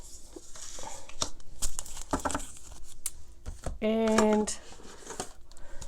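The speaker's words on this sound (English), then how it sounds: "it takes a while, you know, shuffle all these cards" Tarot cards are shuffled by hand in a string of crisp, quick riffling and slapping bursts, close and fairly loud, with a person speaking briefly midway.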